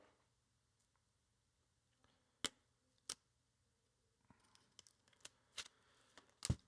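Scissors snipping into a cardboard token sheet for the Goonies: Never Say Die board game, a few sharp, faint, quiet cuts spaced apart, then a quicker cluster of snips, in a quiet room.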